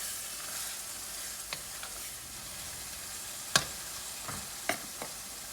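Meat and mushroom mixture being stirred in a pan for lasagna, a soft continuous sizzle with a few sharp scraping clicks of the utensil, fairly quiet and without talk.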